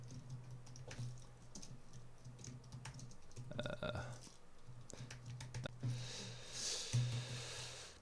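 Typing notes on a computer keyboard, a steady patter of quick key clicks, fairly close but quiet, under a low background hum with brief pauses.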